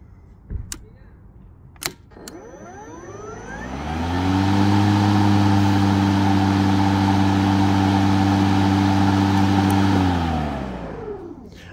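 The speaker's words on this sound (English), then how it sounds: "now let's switch to turbo and hear that" An EGO 56V Select Cut XP battery lawn mower spins up from a few knocks into turbo mode, rising to a loud, steady motor whine with strong harmonics for several seconds before winding down, no talking.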